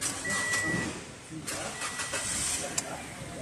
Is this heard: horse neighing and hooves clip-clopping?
no